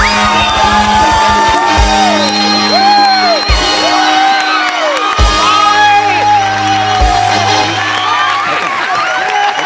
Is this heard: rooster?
no